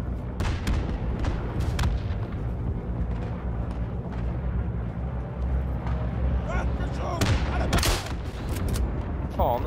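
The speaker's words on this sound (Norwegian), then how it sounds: "Faen, disse eksplosjonene da." World War I battlefield combat in the video game Isonzo: dense, loud explosions and gunfire boom and crackle continuously, with a heavy burst of blasts near the end and voices talking over the din.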